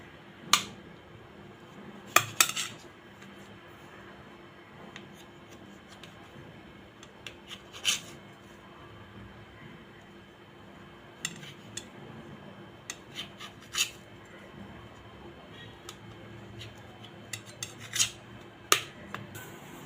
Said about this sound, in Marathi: इथे सुरीच्या साहाय्याने मी ब्रेडच्या साईडच्या कडा कापून टाकते।